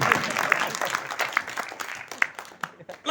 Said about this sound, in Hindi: ठोक दो ताली यार, ये घर घर बजानी पड़ेगी।